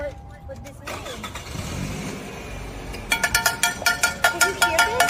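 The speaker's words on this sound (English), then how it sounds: "let me turn the car on and maybe you'll hear it" Car engine cranking and catching with a strange noise, then idling with a steady, rhythmic ticking pulse repeating several times a second, close by, with people talking over it.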